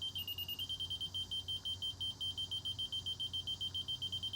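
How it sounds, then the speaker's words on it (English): A Stabila digital level holds a steady electronic tone throughout, signalling dead level, with a faint rhythmic pulsing underneath and no voices. "That solid tone will sound to let you know you're dead level."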